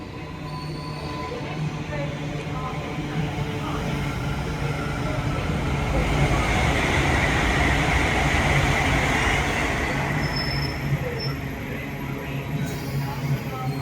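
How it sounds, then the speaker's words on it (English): A Great Western Railway battery train pulls in, its steady rumble and wheel noise building to a loud close pass with faint squealing, heard alone without talk. "I guess we're gonna go on this, so I will see you when the train pulls in."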